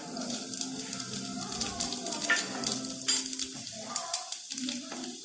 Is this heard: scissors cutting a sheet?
no